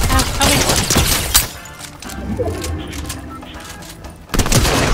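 Rapid SMG gunfire in a Fortnite Chapter 3 Season 3 match crackles in loud, dense bursts at the start and end, with a quieter stretch between.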